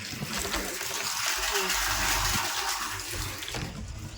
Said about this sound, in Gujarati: ટોકીમાં પાણી ચડી રહ્યું.